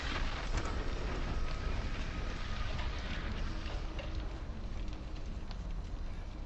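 Burning oil from a fuel barrel shot open in Hitman 2 gives a loud, constant roaring whoosh of fire that stays dense and broadband throughout, with no voices.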